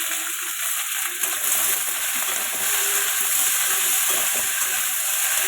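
Potatoes and capsicum fry in hot oil tempered with black cumin seeds, giving a steady, close sizzling hiss that holds evenly throughout with no talking.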